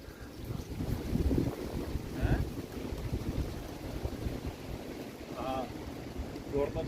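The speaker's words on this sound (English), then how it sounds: "I guess you can hear the wind." Strong wind gusts buffet a phone microphone on a Toronto street, a broadband rumble that stays loud throughout with brief tonal sounds poking through.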